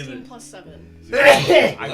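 A single loud, sharp sneeze bursts out after a stretch of quiet speech, followed by a short voice.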